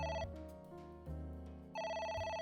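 A telephone rings in the AI: The Somnium Files video game, an electronic ringtone with repeated tonal bursts over a soft musical background, fairly quiet and with no one talking.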